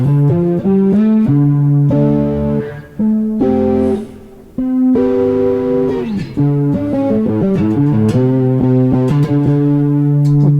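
Bass guitar notes with an octave-up effect add a bright doubled pitch above the low line, played as a melodic phrase with short pauses.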